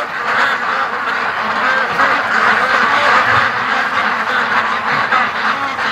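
Ducks quack in a dense, continuous flock chorus after being startled at day's end near a lake, loud and close, with overlapping calls and no pauses.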